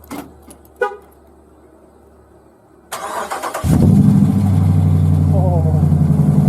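After a few quiet clicks, a Ram 1500 Rebel pickup with a new Magnaflow Street Series exhaust cranks and fires up into a deep, rumbling idle that stays loud and steady close by.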